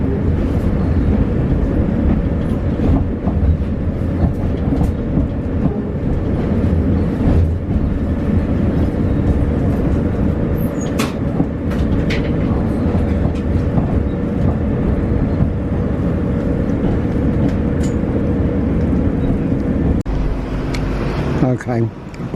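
Steady rumble of a train leaving Edinburgh Waverley, heard from inside a carriage, continuous and loud with rhythmic clatter along the rails throughout.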